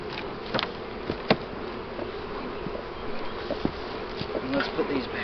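Honeybees buzz steadily around an opened hive during a hive split, a dense low hum with individual bees zipping close past at moments, fairly faint overall with a few soft handling knocks.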